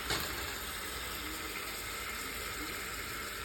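Starchy pasta water pours and splashes steadily into a pan for a few seconds, a continuous close rush of liquid with no talking.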